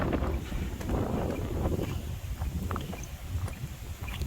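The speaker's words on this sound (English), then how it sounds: "Man, it's windy today." Gusty wind buffets the microphone on an open stretch of hiking trail, a rough, rumbling roar that swells and dips over a few seconds with no voices.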